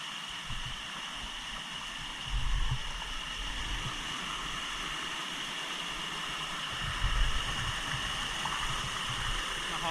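A waterfall at Huay Thong in Bokeo, Laos pours with a steady broadband rush that stays fairly constant throughout, with a couple of slightly louder surges and faint voices in the background.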